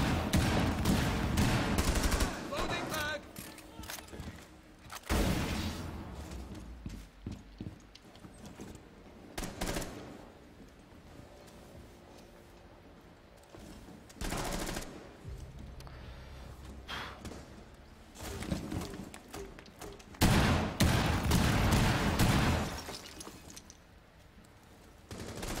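Bursts of gunfire in Rainbow Six Siege on the Consulate map, loud rapid volleys separated by quieter gaps with thuds and movement, repeating over a long stretch with no talking.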